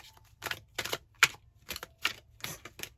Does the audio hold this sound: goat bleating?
no